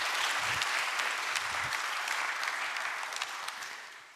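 Steady applause from an audience at a Korean government policy plan presentation, dense clapping that holds throughout and fades slightly toward the end.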